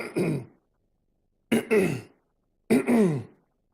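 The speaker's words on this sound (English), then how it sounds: "He clear his throat 3 times." Three separate throat-clearing rasps, each about half a second long and spaced out with silence between them, close and distinct.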